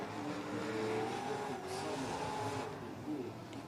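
A drift car runs a circuit at a competition, its engine roaring continuously with a sustained whine and tire squeal rising and falling as it slides, the sound dense and steady with no speech.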